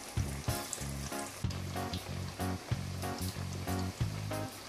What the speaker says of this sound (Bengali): আমি ফ্লেমটা লো করে ভালো করে ভেজে নিচ্ছি।